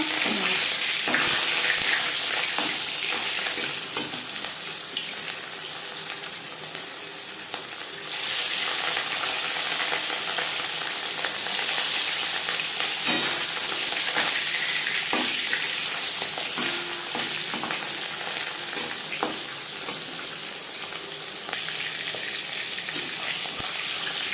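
Marinated katla fish pieces frying in four or five spoons of hot refined oil give a loud, continuous, close-up sizzle with fine crackling that barely changes throughout.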